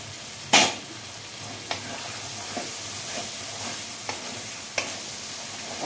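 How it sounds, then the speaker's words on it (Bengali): Spiced pea ghugni sizzles softly in a pan while a utensil stirs it, scraping in sharp, irregular strokes, one loud clack near the start and lighter scrapes after, over a low continuous frying hiss. "অল্প কুড়মি দিয়ে মশলাটা ভালো করে কষিয়ে নিচ্ছি।"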